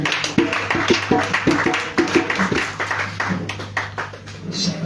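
A church congregation claps in a quick, loud, rhythmic burst of hand claps to acclaim Jesus, the beats steady at first and then loosening into scattered applause.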